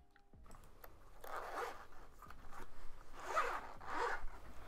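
A zipper on a pencil case is pulled open in a close, quiet, rasping run of several scratchy strokes, with light handling noise and no talking.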